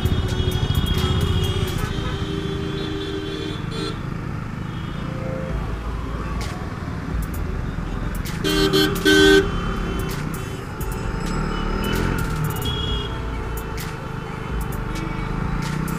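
Dense city traffic in Patna, India, heard from a KTM motorcycle: repeated short car and truck horn toots over a steady rumble of engines, close and busy throughout.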